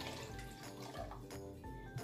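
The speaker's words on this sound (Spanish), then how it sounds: "aquí voy a poner agua, alrededor son más o menos como 2 litros." About two litres of water poured into a cooking pot for making chileatole, a continuous soft splashing and gurgling stream heard up close at low level, with no talking.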